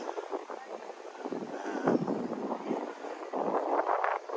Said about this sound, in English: As you can tell, there's probably lots of fucking wind.